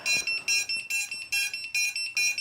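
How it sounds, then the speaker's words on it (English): Lost-model beeper on a six-inch quadcopter build buzzing in a rapid repeating pattern of short, loud, piercing beeps, about five bursts per second, close by with no talk. "Watch this when I put on the beeper."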